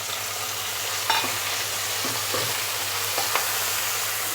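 Chopped tomatoes go into onions frying in oil in a pan, setting off a steady loud sizzle broken by a few scraping stirs and small clatters, with no voices.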